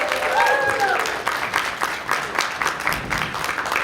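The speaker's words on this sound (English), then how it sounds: "Please round of applause for Nate," Audience applause for a performer at a VTuber event, steady clapping with cheering voices and speech layered over it, fairly loud and continuous throughout.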